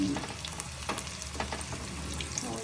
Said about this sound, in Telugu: చికెన్ మంచూరియా స్మెల్ మాత్రం బాగా వస్తుంది వేయిస్తుంటే